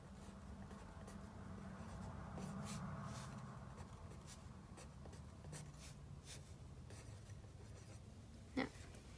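A math equation is written out by hand, with very faint, soft scratching strokes that come and go in a quiet room.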